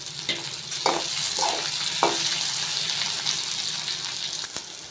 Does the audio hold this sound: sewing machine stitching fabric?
no